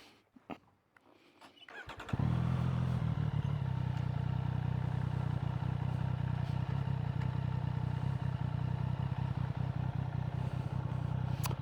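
A Triumph Street Triple motorcycle engine catches after a quiet start and settles into a loud, steady close-up running drone with a slight clattery texture that lasts to the end.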